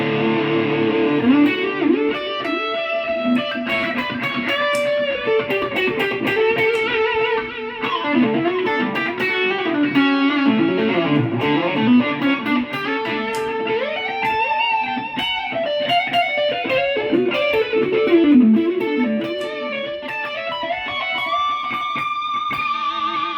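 Electric guitar solo played through a Boss GX-100 multi-effects unit with light overdrive and reverb, a long melodic run of bending, gliding notes, loud and continuous with no talk.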